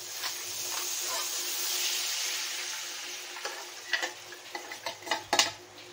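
A burger steak mixture frying in butter in a pan gives a steady close hiss and sizzle, followed by a cluster of sharp ticking taps and clinks of a utensil against the pan toward the end.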